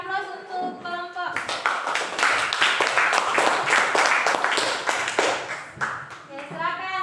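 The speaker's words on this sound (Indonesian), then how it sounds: "beri aplaus untuk kelompok" Classroom applause for a student group after their presentation, a dense burst of clapping from many hands lasting several seconds, with voices talking briefly before and after.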